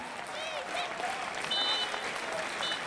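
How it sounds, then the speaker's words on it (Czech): Applause from a crowd of nearly 1,000 spectators at a legends football match between SK Líšeň and SK Slavia Praha, a steady broad clapping wash that runs throughout, with faint whistles and voices mixed into the crowd noise. "Velký potlesk od vás všech"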